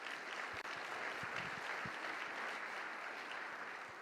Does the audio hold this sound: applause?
yes